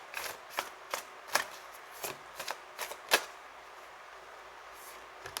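Tarot cards being shuffled by hand close up, producing a string of brisk riffling and slapping bursts at an irregular pace, fairly quiet, with no talking over them.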